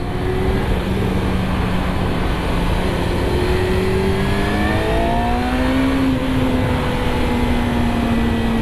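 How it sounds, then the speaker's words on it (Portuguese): A small motorcycle engine runs loud and close, its droning hum rising and falling in pitch as the rider revs and shifts over steady road and wind roar. "Só para ouvir aqui um bocadinho o barulho aqui da minha motinha."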